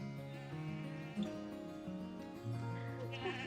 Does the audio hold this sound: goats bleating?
yes